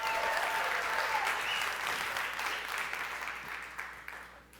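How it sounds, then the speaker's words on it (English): A crowd at the Oculus E3 2015 press conference applauds loudly and steadily, then the clapping gradually thins and fades toward the end. "Come on, let's clap."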